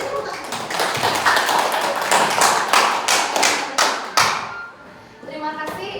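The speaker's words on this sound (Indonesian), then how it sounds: "Beri tepuk tangan." An audience at a school positive-culture dissemination session claps, producing dense, fairly close rapid hand claps that continue for several seconds and thin out into a few scattered claps near the end.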